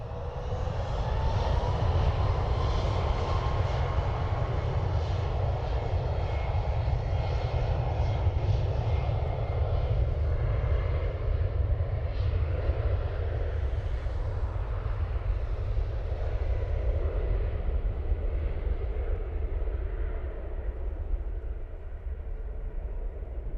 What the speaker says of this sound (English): So the Emirates had lifted off by now